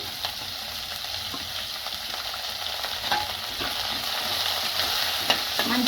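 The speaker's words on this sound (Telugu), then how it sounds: "ఇలా బ్రౌన్ కలర్ వచ్చి వరకు వేయించుకోవాలి ఉల్లిగడ్డ" Chopped onions with curry leaves fry in a pan for a ridge gourd and moong dal curry, giving a steady close sizzle with occasional stirring scrapes throughout.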